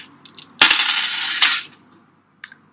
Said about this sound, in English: we finally got 1 for coins